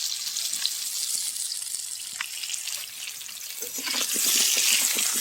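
Potatoes frying in a pan with turmeric and salt, a constant bright sizzle with scattered crackles that grows louder and denser toward the end.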